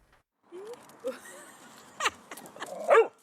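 Dog on a short recuperation walk giving a few soft whimpers and yips, then a couple of louder barks near the end, fairly quiet and close with outdoor background.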